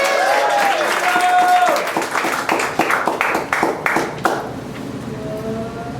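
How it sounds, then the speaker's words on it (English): Applause and scattered clapping from a comedy club audience at Brick & Mortar, loud at first then thinning into individual claps before fading, with a voice and brief tonal pings over it. "Let's give him a round of applause."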